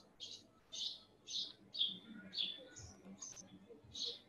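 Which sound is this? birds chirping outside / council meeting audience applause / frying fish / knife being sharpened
birds chirping outside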